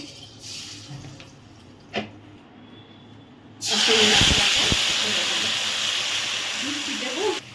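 Spice paste hits hot oil with a sudden loud hiss and sizzle, for a hilsa fish head curry with turmeric and salt. Quieter kitchen noise comes first, then the sizzle rises and holds steady to the end.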